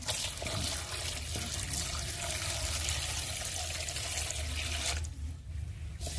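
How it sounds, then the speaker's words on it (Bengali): Tap water runs steadily and close by while small pakal fish are rinsed by hand in a sink, a continuous splashing rush that stops abruptly near the end. "এবার মাছগুলো ধুয়ে নেব।"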